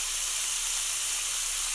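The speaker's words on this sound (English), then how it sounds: "wait for a few minutes for the liver to get seared on that side." Pieces of liver searing on a Tefal OptiGrill, heard as a steady, even hiss at moderate level for a couple of seconds, with no talking.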